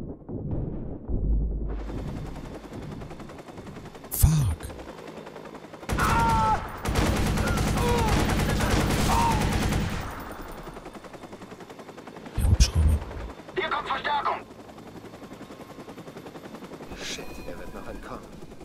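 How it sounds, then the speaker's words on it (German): Bursts of machine gun fire ring out in the Watch Dogs video game as a helicopter appears, long rattling volleys and sharp single shots, with excited voices talking between them. "Oh shit! Der Hubschrauber!"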